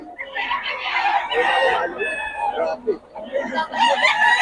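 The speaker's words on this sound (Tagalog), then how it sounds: "Yung mga manok ni Boss Gaga mga idol" Gamefowl roosters and stags in Pampanga crow in loud, drawn-out calls mixed with clucking, several birds overlapping continuously at close range.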